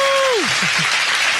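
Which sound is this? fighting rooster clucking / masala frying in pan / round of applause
round of applause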